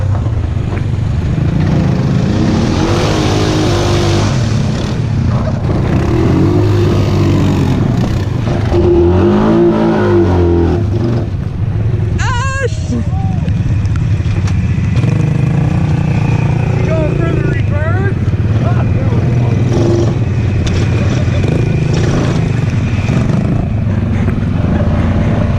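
Honda Foreman 500 ATV on new mud tires, two-wheel digging in mud, its engine droning and revving loudly and steadily throughout, with people talking over it.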